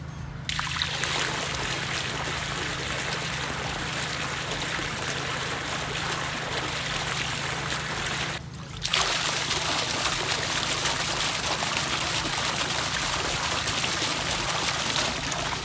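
Two fountain pumps rated 700 and 1000 gallons per hour bubble water in a steady, loud, continuous wash with a brief dip partway through, plus a constant low hum underneath.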